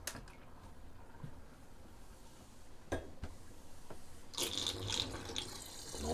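Water runs and gurgles down a bathroom sink drain after shaving, a quiet steady trickle with a few sharp clicks and a louder splashing burst near the end.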